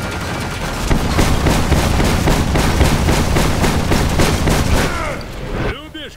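Rapid gunfire from a rifle and shotgun in the action shooter Stranglehold, a dense burst of repeated shots for about five seconds, loud and close, then a sudden stop followed by a short tonal effect.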